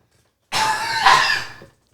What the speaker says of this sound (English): 1 second, I'm going to cough.